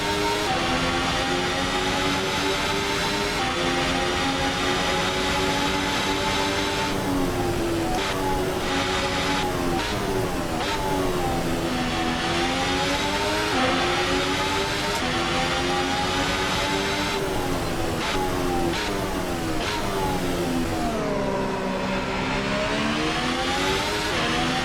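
Turbo hybrid engine of the ASR-H concept open wheeler in Assetto Corsa, loud and continuous for the whole stretch, its pitch rising through the gears and dropping on downshifts under braking, with repeated rapid shifts and no talk.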